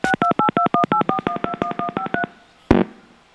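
Telephone keypad tones beep in a quick run of about twenty even pulses during a live broadcast call-in, then after a short pause a single sharp click or burst marks the line connecting.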